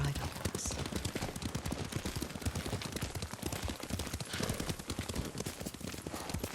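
Horse hooves clip-clopping at a steady riding pace in the game Ghost of Tsushima, a dense rhythmic patter throughout with faint talk in the background.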